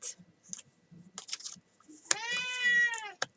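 A cat gives a single drawn-out meow, close and clear, after a few seconds of faint scattered murmuring and small indoor noises.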